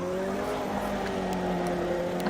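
An LMP2 prototype race car at Zhuhai in a racing game drones at steady high revs while it slides sideways, its engine tone holding level and loud with faint tyre noise underneath.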